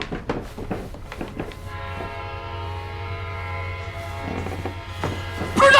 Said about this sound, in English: We were going to try to use a train